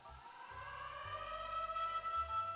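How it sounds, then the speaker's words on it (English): A thin electronic siren wails steadily from a small toy speaker on a 2001 G.I. Joe U.S.S. Saratoga aircraft carrier toy, faint and tinny, with a low pulsing tone underneath. "You have a siren, all hands on deck."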